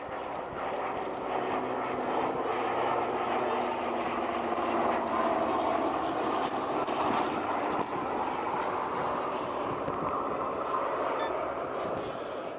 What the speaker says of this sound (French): voici le Douglas DC-3